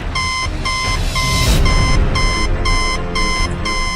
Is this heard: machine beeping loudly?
yes